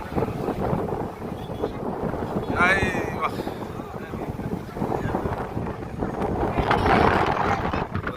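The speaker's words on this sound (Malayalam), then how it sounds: "കണ്ടോളി മക്കളെ, നല്ല കാറ്റാണ്" Strong wind gusts buffet the microphone at Madurai airport, a heavy, rumbling roar that surges and eases over the stretch, with a brief higher whistling sweep in the middle.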